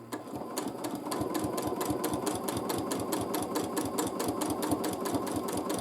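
A sewing machine stitches free-motion quilting in a fast, even run of mechanical clatter, its needle pulses ticking rapidly and evenly throughout, close and steady with no pauses or voices.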